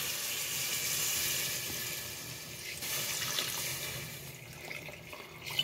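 Water pours steadily into a pot of sautéed chicken for tinola with a continuous splashing rush, close by, tapering slightly toward the end before a small clink.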